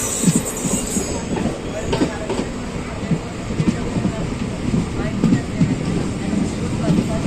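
A passenger train runs along the Nidadavolu–Narasapur line through the Godavari districts with a continuous rumble and rhythmic clatter of wheels on rails, steady and close, with faint voices at times.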